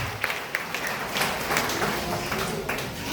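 A congregation applauds at a Wednesday prayer assembly, with steady clapping filling the whole stretch, some louder individual claps standing out, and faint voices mixed into the background.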